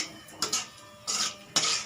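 A metal spoon stirs maida biscuits frying in oil, giving three short bursts of clinking and scraping against the pan with quiet gaps between them.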